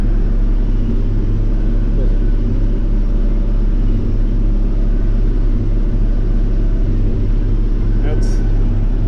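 A farm tractor with small tires working a hilly, dry hay field, a loud, steady low engine drone and rumble throughout, heard close up from the cab.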